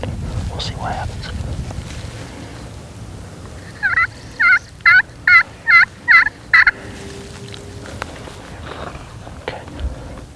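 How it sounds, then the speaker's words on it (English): Wild turkey gobbling back to a hunter's call outdoors: a rapid burst of about six loud, rattling gobble notes from fairly close, standing out over wind and faint rustling. "I'm going to throw out one little call. See if he gobbles, see if he comes in."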